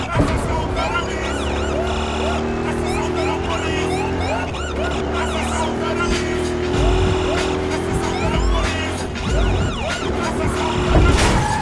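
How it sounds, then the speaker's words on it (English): Police car sirens wail and sweep up and down in Battlefield Hardline, loud and close, layered over engine roar and tire squeals, while a voice talks over the commotion. "You guys hear that? What I was doing with the sirens there?"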